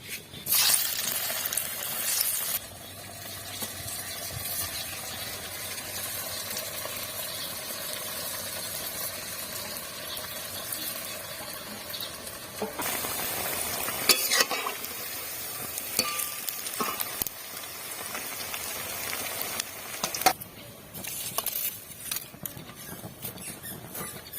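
Crisp sago fritters, sabur bora, fry in hot oil with a continuous bubbling sizzle, louder in bursts when turned or stirred, with scattered light taps of a utensil, close by and without speech.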